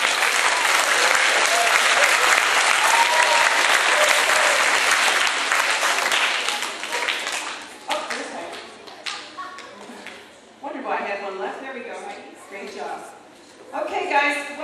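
Loud applause and clapping from a school assembly crowd at an elementary school, honoring the art teacher; dense for about seven seconds, then thinning to scattered claps mixed with children's voices.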